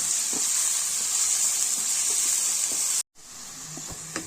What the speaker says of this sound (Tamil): இதை நல்லா வதக்கணும் நல்லா கொஞ்சம் நல்லா ப்ரௌனாகவே வதக்கணும்